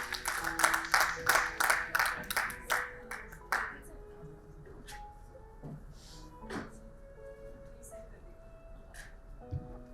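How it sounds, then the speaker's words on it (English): Audience applause for a panelist at a hospital infrastructure panel discussion, a burst of rhythmic clapping that fades after about four seconds, followed by sparse claps, faint murmurs and quiet room sounds. "Can we have a huge round of applause for him?"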